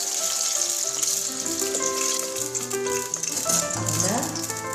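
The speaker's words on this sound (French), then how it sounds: "je vais mettre de l'eau chaude" Hot water poured into a pot of oil and chickpeas for Tunisian couscous hisses and bubbles continuously at close range, with a steady rushing sizzle and rattling underneath.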